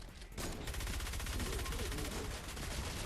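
Rapid automatic gunfire from defenders in Fortnite Save the World rattles on continuously after a brief pause, a steady stream of fast shots at moderate level with no talk.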